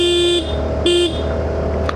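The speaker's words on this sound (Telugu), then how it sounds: "హారన్ చాలా ఇంపార్టెంట్ ఇక్కడ." On a forest road on the Hyderabad to Vanajangi route, a vehicle horn gives two short, loud, close honks with a brief gap between them, over a low engine hum.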